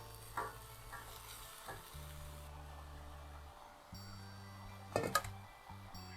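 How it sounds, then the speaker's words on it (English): Banana flower being stirred in a pan, with soft frying sizzle and a few scraping stirs, including a sharper clatter near the end, under a low humming background with no talking. "And stir it until it's mixed together."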